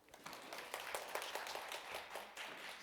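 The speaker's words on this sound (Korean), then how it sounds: "여기 누가 제일 박수가 컸을까요?" Quiet, distant clapping from a seminar audience, a dense patter of hand claps with a few sharper accents, continuing steadily without speech.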